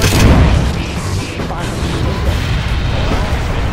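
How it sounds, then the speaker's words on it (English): Laser guided missiles launching in C&C Generals Zero Hour, a real-time strategy game: a dense, loud rumble of booming launches and blasts with a heavy low end, sustained over a few seconds amid continuous battle noise, with game voice lines mixed in. "Let's pop some laser guided missiles."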